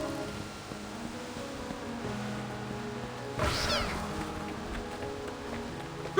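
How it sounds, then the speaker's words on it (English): Splinter cats meowing in the video game Reverse: 1999, a short burst of cat cries rising over a dense game soundtrack of music and ambient sea-like wash. "What are all these splinter cats doing here?"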